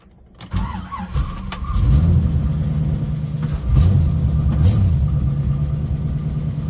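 A Jeep engine cranks, catches and settles into a steady, close rumbling idle as it runs and warms up, with no talk over it.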